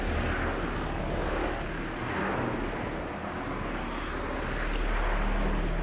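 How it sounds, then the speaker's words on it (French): A fighter jet in the Fortnite video game roars with a loud, sustained engine rumble that swells and dips slightly across several seconds, heard alone without talk. "le truc, c'est un avion de chasse"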